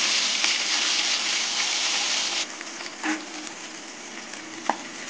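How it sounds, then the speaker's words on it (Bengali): Katla fish frying in hot mustard oil in a kadai: a steady dense sizzle for the first half that then thins to a quieter crackle with a few louder pops. "মাছগুলো তেলে ভেজে নেব।"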